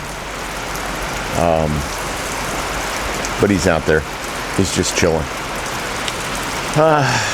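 Steady rain falls over an open field, a constant close hiss throughout while someone talks over it in several short bursts.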